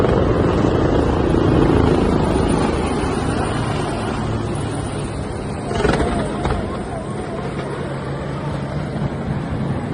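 Loud rotor roar of two Royal Malaysian Navy helicopters flying nearby during a rehearsal, a continuous rumbling drone that eases slightly, with a brief sharper burst partway through.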